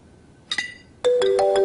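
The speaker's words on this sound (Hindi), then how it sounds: "काजिम अंकल का फोन" A phone starts ringing after a brief electronic chirp, sounding a loud, bright, melodic tone close by.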